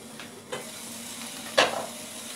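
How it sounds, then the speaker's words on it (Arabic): Onion frying in a pan while being stirred: a constant soft sizzle, broken by a couple of sharp scraping strokes of a utensil across the pan. "هنا راهو تقلى البصل"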